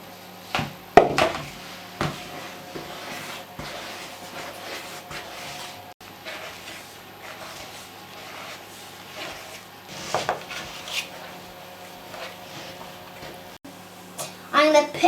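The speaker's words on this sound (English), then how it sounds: "Now I'm going to mix it in with my flour." Ingredients being stirred into flour make soft scraping and rubbing sounds, with occasional light knocks of a utensil against a bowl, close and fairly quiet, while people speak now and then.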